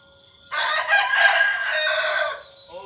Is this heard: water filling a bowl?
no